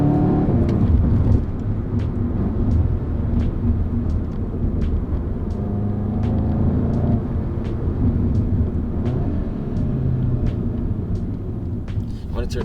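A VW GTI with a Unitronic Stage 1 ECU and TCU tune accelerates hard in manual mode, giving a deep, loud rumble with shifts between gears and a regular ticking running through it.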